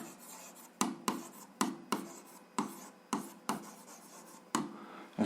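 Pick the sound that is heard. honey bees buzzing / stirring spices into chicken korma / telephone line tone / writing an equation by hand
writing an equation by hand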